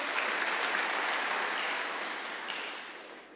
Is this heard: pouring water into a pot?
no